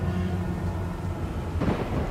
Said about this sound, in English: Storm's not that bad.